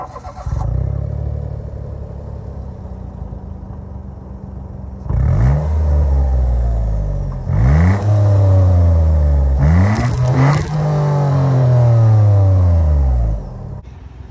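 A 2021 Mitsubishi Mirage's 1.2-liter three-cylinder engine starts and idles, then is revved three times in rising and falling sweeps, loud and close, with a brief spoken phrase.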